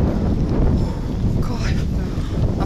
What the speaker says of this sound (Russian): Ветерочек прям с моря.